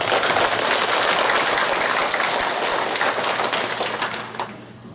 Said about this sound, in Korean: 우리 하나님 아버지 앞에 영광의 박수 한번 올려드립니다.